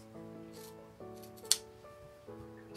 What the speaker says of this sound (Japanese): ファスナーをつけるので端が揃うように切ります。